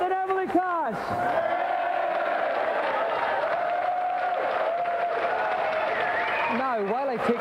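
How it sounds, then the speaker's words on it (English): Applause from a studio audience on a 1992 television game show, a steady dense roar of clapping that fills the whole stretch, with a host's voice briefly over the start and end. "another round of applause for Pat and Emily Cash"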